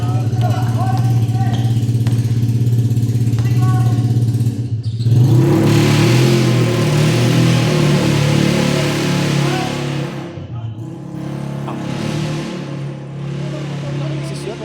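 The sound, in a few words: motorcycle engine revving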